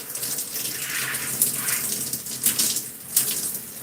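Running water rinses hair after a first shampoo wash, a continuous gushing splash with soft surges and no voices over it.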